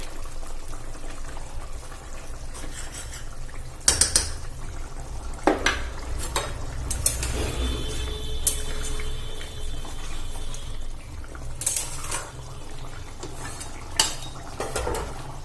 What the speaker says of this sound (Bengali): আমি এরকম একটা মেশিনে নিয়ে একটু আলুটা ম্যাশ করে দেবো